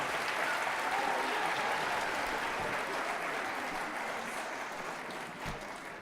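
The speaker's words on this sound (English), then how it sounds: "How about a nice round of applause for the 6th grade band again?" Applause from an audience at a 5th and 6th grade winter school band concert, continuous clapping throughout that stays fairly even and distant, fading slightly toward the end.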